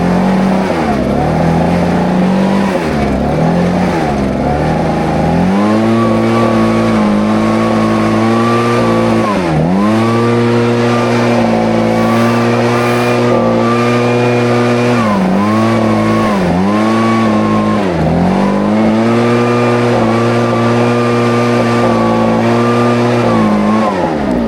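Echo PB 7910T backpack leaf blower running steadily up close, its loud engine drone dipping and surging several times as the throttle is eased and opened, with no talking.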